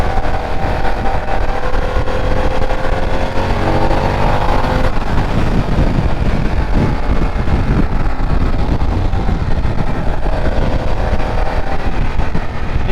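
A 2024 Harley-Davidson Pan America motorcycle ridden hard on the throttle, its engine droning steadily and loud under heavy wind rush, with a rising pitch sweep before the tone settles into a broad roar.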